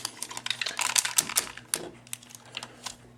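Plastic pieces of a Transformers Galaxy Force Galaxy Convoy robot toy fold and click together in a quick run of close, sharp ticks and snaps, with a faint steady hum underneath and no talking.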